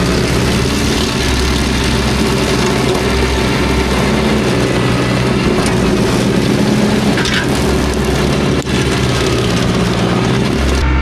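A MECHMAXX SG24 PTO stump grinder runs continuously on a tractor, a loud steady low engine drone with grinding texture throughout, no pauses and no talking.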